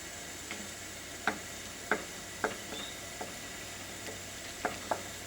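Meat sauce simmers in a cast iron pan as part of a Mexican lasagna, a low steady sizzle broken by sparse soft ticks and spatula taps, faint and close with no voices.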